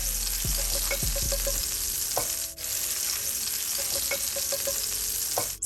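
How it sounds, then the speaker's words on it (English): Canola oil and seafood frying in a pan give a steady, bubbly sizzle that runs the whole time, with a few sharp utensil clicks and scrapes and one brief dip partway through. "Make sure everything is nice and hot and bubbly."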